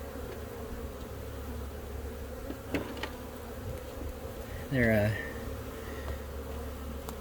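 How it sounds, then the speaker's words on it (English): A dense, steady drone of honeybees swarms close around a beekeeper during a hive inspection, the busy buzz continuous throughout with a brief louder pass near the end and a short spoken word. "The bees do not seem to be very happy with me today."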